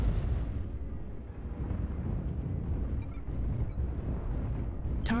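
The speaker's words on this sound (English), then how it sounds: "He's just firing LRMs because he can." LRM missiles fire and burst in the MechWarrior Online game, producing a heavy, continuous rumble of booming explosions that stays loud for the whole stretch, with a couple of faint electronic blips near the end.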